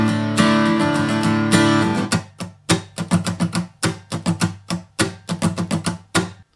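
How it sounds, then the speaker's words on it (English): Acoustic guitar strummed through the chorus progression of a song: a sustained opening chord rings out, then a run of crisp, evenly spaced strums follows up close, with no voice. "For the chorus, we'll play a progression that sounds like this."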